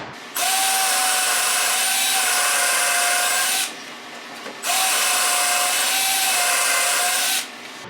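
Power drill boring dowel holes in wood through a DowelMax jig for cabinet building, two loud sustained whining bursts of about three seconds each, separated by a short pause, close up with no talk.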